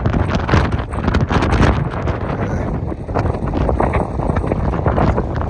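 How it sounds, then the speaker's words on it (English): Strong California wind gusts at a truck fuel stop roar and buffet the microphone continuously, loud and rough with no pause. "It's windy as hell."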